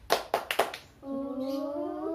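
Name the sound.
children doing rhythmic spirit clap in class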